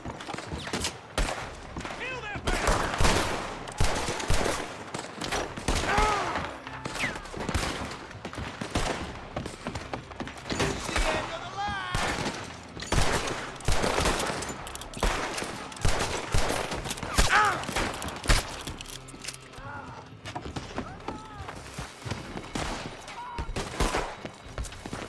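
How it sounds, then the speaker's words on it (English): Dense gunfire in the Red Dead Redemption 2 video game, rapid volleys of shots cracking and echoing without pause during a firefight, with voices shouting over the shooting. "They're shooting from that building."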